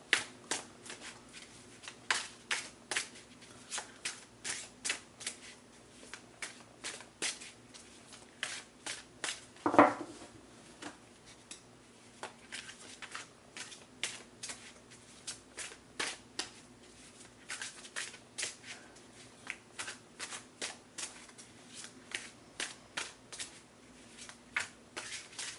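Tarot cards are shuffled over and over in rapid riffling bursts with short pauses between them, close and crisp, and one sharper snap partway through.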